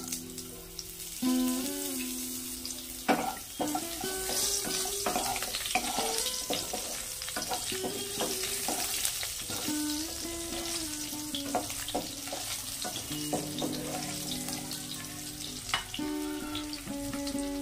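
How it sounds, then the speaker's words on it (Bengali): Chui jhal fries in hot tempering oil in a village kitchen before taro goes in with snakehead fish. A loud, steady crackle and sizzle runs throughout, with many pops and some tonal scraping or clinking, and no talk. "ফোড়ন থেকে সুন্দর গন্ধ বেরিয়ে আসছে, দিয়ে দেব কিছু চুই ঝাল।"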